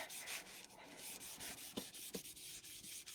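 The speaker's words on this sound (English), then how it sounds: "just give it a good rubbing" A paper card is rubbed firmly by hand to stick a folded piece down, giving a steady, close, soft scraping hiss with a few brief thumps and no talking.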